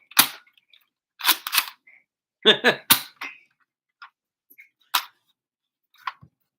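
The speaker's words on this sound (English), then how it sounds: "I'm shooting at you with a dart gun" A toy dart gun fires in a series of sharp, close pops and snaps separated by pauses, some shots bunched in quick pairs, in a quiet room.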